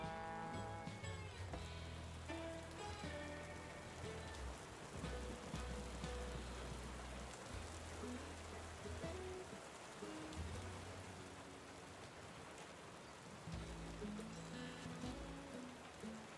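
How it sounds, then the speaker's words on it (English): Steady rain patters through a night in the video game Tavern Keeper, a continuous dense wash of drops under soft background music, with no speech. "Seems we're in for a rainy night."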